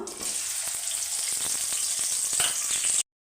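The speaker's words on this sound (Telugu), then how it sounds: "ఆయిల్ అయితే వీటెక్కింది ఇప్పుడు ఉల్లిపాయలు అయితే వేసుకుందాము" Onions sizzle and fry steadily in hot oil in a pan for chicken gravy curry, a continuous close, fairly loud crackling hiss with small pops that cuts off abruptly near the end.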